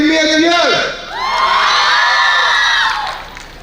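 Delegates at a Model UN closing ceremony cheer loudly as a crowd, with whoops and shouting voices rising twice in a sustained burst of nearly four seconds.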